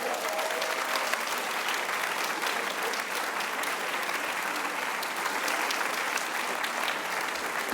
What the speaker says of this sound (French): faites un tonnerre d'applaudissements pour Monsieur Antoine Chalex.